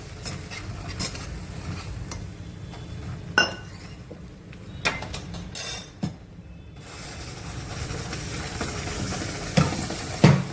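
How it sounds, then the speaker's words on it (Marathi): Curry leaves, red chili powder, turmeric and homemade masala sizzle in hot oil for a Goan prawn curry, a steady close frying hiss broken by several sharp clinks and scrapes of a spoon stirring in the pan. "तेल चांगले गरम झाले, त्यामध्ये मी कढीपत्ता टाकते। त्याच्यामध्ये मी लाल तिखट, हळद आणि घरगुती मसाला घेतला आहे आणि त्याला छान ढवळून घ्यायचं।"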